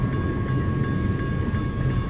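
A BNSF freight train of well cars carrying trailers rolls steadily past close by at a street crossing, a continuous dense rumble with faint rhythmic clicks of wheels on rail joints.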